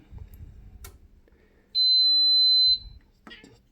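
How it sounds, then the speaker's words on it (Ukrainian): A budget home UPS inverter gives one steady high electronic beep lasting about a second as mains power switches to battery, loud and clean over faint handling clicks and quiet talk. "я вимикаю мережу, він пищить і показує, що все, мережі нема, працює від акумулятора"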